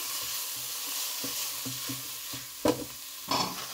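Curry mixture with piment d'Espelette and curry powder stirred in a pan, soft repeated scraping strokes over a low steady sizzle, with two sharper clinks of the spoon near the end.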